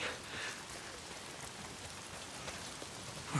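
Steady rain pours down in a continuous soft hiss, a dense patter with no voices, in the game Days Gone.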